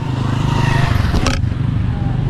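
A motorcycle engine on a tricycle idles close by with a steady low rumble and throb, with a brief scrape or clatter in the middle.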